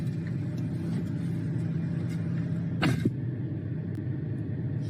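Steady low rumble inside a moving car, continuous road and engine drone with a brief rustling noise partway through and no talk.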